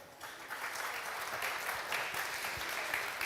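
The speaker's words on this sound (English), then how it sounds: "please, round of applause" A symposium audience claps steadily, a dense wash of applause that swells after a brief start and holds evenly throughout, fairly close and unaccompanied by speech.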